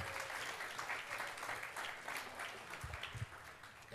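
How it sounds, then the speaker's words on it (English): An audience at a conference summit session gives a round of applause, a continuous patter of many hands clapping at moderate distance with a few louder nearby claps. "Let's give them one last round of applause."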